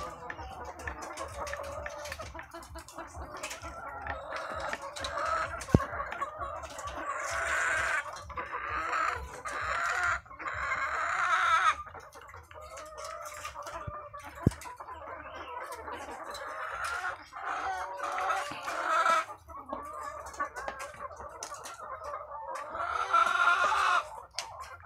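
Chickens clucking on a poultry egg farm, with a rooster among them; steady close clucks and squawks with intermittent louder calls, fairly quiet overall with a voice now and then.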